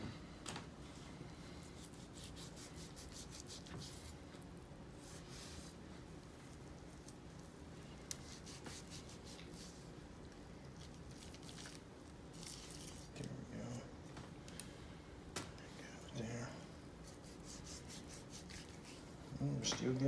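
A knife trims fat from a raw brisket with soft, close slicing and rubbing sounds and intermittent wet scrapes, continuing quietly throughout.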